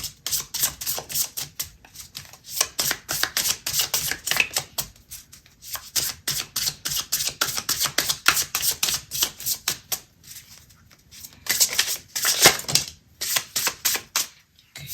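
Tarot cards are shuffled and handled close up in rapid rhythmic riffling bursts, pausing briefly before more shuffling and the flick of cards being drawn.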